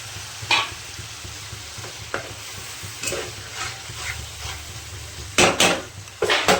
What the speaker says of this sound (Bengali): টমেটোটা নরম হতে থাক, এদিকে মশলাটা কষানো হচ্ছে